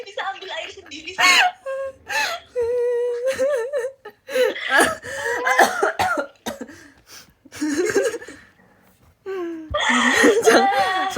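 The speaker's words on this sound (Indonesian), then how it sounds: "Jesse batuk" A young woman coughs several times between bursts of chatter and laughter during a casual live-streamed radio-style chat, the coughs short and close amid ongoing talk.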